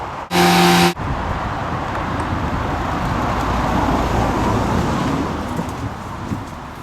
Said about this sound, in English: You'll note that it is a topless double-decker bus.